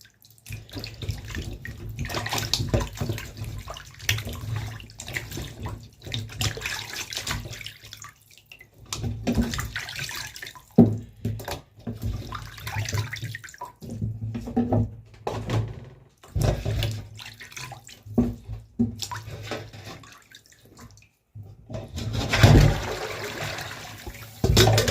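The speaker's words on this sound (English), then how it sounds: "Wash it again. Put more running water" Running tap water splashes and trickles steadily as cow foot is washed with lime in a sink for a Jamaican recipe, the flow surging and pausing with handling.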